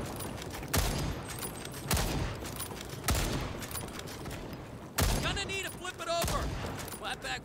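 Rapid gunfire in the sci-fi dinosaur shooter Second Extinction, loud bursts repeating in close volleys across the whole stretch, with voices talking underneath.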